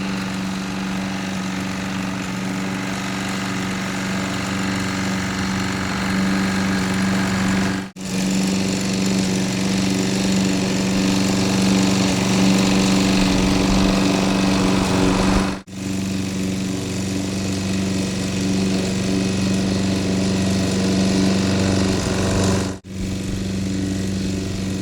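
A lawn mower drones steadily while mowing a large home yard, its engine loud and close. The sound runs continuously, with a few brief dips in level.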